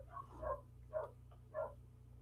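Dogs bark indoors in three short, spaced bursts, faint and somewhat muffled, over a low steady electrical hum.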